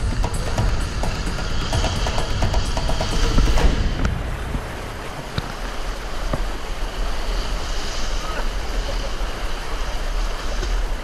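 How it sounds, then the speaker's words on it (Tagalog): Strong river currents rush in a continuous, loud roar of churning water, dense and unbroken throughout, with a slight drop in intensity partway through and no voices. "Dahil sunod-sunod ang malalakas na agos, mabilis na nakakalas ang pagkakatali sa aming mga salbabida at balsa."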